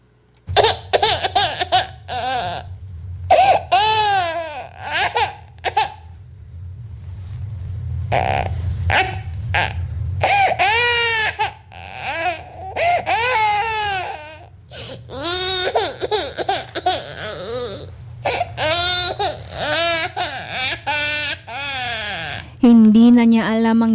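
Repeated wailing infant cries serve as a sound effect in a Filipino late-night radio drama, loud and close, coming in bursts over about twenty-four seconds and mixed with laughing, bleating-like cries and spoken narration.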